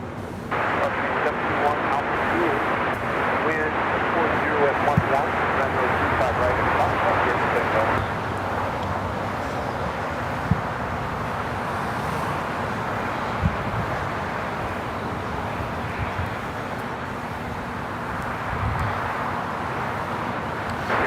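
A Nippon Cargo Airlines Boeing 747 spools up for takeoff at Los Angeles airport, a broad, steady roar that holds at loud level and then eases into a lower rumble, with talk over it.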